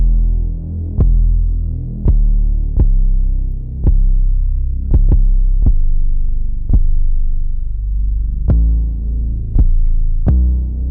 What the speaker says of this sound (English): I have a synth bass that I side chain to that 808.